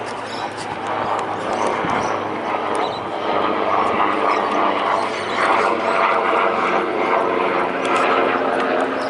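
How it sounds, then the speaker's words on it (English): An airplane passes over a suburban cricket ground during a grade match, a broad droning engine roar that swells slowly and holds loud across the whole stretch. "just waiting for the plane to pass by"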